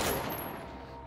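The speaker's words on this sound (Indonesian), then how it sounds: "Lars berhasil kabur meskipun Dozer sudah melepaskan tembakan" Gunfire from a film scene, a dense burst of shots with a loud, sustained crackling roar through the whole short stretch, no talk over it.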